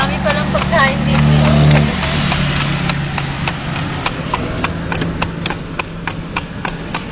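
Horse hooves clip-clop steadily while pulling a kalesa carriage around Luneta, a regular rhythm of sharp knocks on pavement, close and fairly loud, with engine noise and voices talking underneath.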